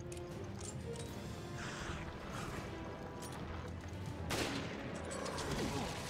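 A single gunshot rings out in the video game Resident Evil Revelations, a sharp broadband crack near the end that stands out over steady game ambience and noise.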